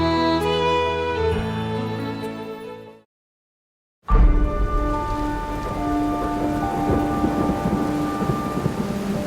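Steady heavy rain pours on a night in a remote Taiwanese town, cutting to total silence for about a second before returning as a loud downpour with a deep thunder rumble.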